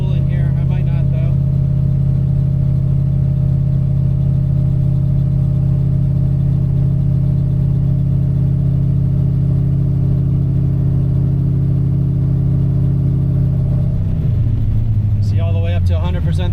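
An LS-swapped Mazda RX7 V8 roars at full throttle on a dyno, a loud, steady deep drone held for many seconds before the revs drop and settle lower near the end.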